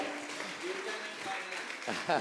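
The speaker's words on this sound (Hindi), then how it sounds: "तालियां आपकी बजती रहनी चाहिए" Crowd applause crackles continuously beneath a speaking voice, swelling briefly near the end.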